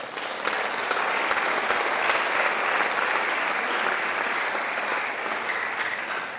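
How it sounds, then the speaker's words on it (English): Sustained round of applause from an audience of families at a middle-school information night, broad and even clapping lasting several seconds without a break. "Can we give them a round of applause?"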